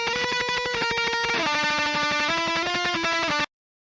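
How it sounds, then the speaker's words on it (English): A heavily saturated, distorted electric lead guitar in atmospheric black metal plays a sustained melodic line with steady picked notes, loud and up front, then cuts off abruptly. "Lead guitar sounds like this."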